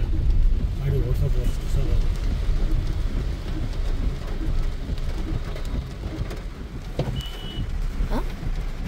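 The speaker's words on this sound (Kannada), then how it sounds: "ಜೋರ್ ಮಳೆ ಬಂದೇ ಬಿಡ್ತು" Heavy rain pours continuously with a low rumble of thunder or traffic underneath, and people talk over it.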